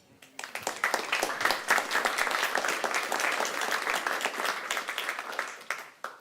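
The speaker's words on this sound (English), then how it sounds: "So huge applause for Tomek." Applause from a tech meetup audience, dense clapping that starts abruptly, holds steady for several seconds and fades near the end, with faint voices underneath.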